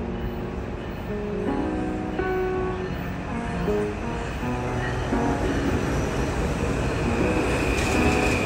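A New York subway train heads toward Grand Central station, with a continuous low rumble of rolling rail cars, faint wheel squeals and tonal whines rising over it, steady and enclosed with no talk.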